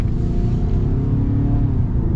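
A 2024 Ford Maverick or Ranger truck engine hums and rumbles steadily under acceleration, a continuous low drone heard from inside the cab with no voices.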